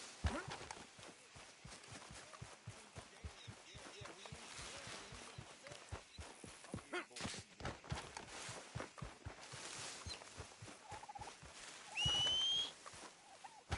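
Horse hooves clop in Red Dead Redemption 2 as a steady, rapid run of hoof beats over gritty ambient noise, with a brief whistle-like tone near the end.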